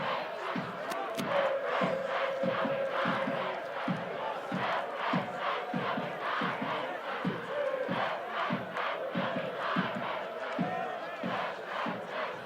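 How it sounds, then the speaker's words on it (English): Rugby crowd of Kingswood College students at a school 1st XV match chanting in unison with a steady rhythmic beat, loud and continuous with shouts and cheers rising throughout. "Now the crowd in full voice."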